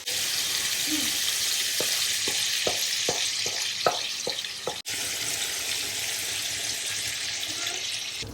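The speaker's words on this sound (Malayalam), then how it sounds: "നമ്മളാണെങ്കിൽ മീൻ എല്ലാം വറക്കാൻ വെക്കുവാണ്" Fish deep frying in oil for a Kerala seafood meal, a steady broadband sizzle running throughout, punctuated by a series of short sharp clicks or taps in the first half and one brief dropout midway, with no talk.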